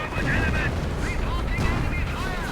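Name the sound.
gunfire in battle, video game (Company of Heroes)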